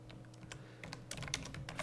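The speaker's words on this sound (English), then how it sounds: "I'm typing very badly" Someone types on a computer keyboard while building a FileMaker layout, producing quick, uneven clusters of light key clicks at close range, with no voices.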